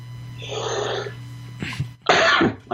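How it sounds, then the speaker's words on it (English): Two rough coughs break out one after the other near the end, close by, over a steady low hum. "I have an awful cough"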